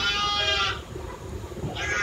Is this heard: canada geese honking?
no